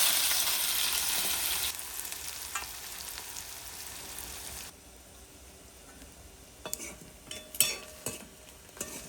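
Mustard seeds, dry red chillies, chopped onion and green chilli hit hot oil for a jackfruit curry, first in a loud, bright sizzle that then drops to a quieter fry with scattered clinks and scrapes of stirring.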